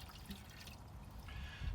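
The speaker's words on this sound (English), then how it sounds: "so this is gas oil mix. I'm pouring in here." Gas and oil mix for a two-stroke engine poured into the fuel tank of an old Craftsman tiller, a steady soft liquid trickle with faint dripping, close and quiet throughout.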